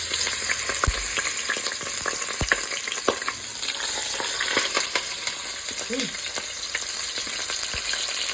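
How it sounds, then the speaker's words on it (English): Meatballs coated in Creole seasoning and black pepper fry in hot oil, heard as a loud continuous sizzle that runs throughout, with a few sharp clicks and knocks from the pan. "So now we're going to get these into some hot oil that I've put in here."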